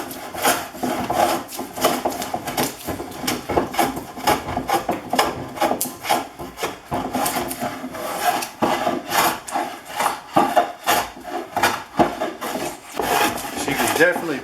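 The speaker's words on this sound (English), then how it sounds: "It is definitely taking off lots of wood." A Stanley No. 74 smoothing plane shaves wood in repeated rasping strokes, each pass a scraping, rubbing sweep with brief gaps between, close and fairly loud throughout.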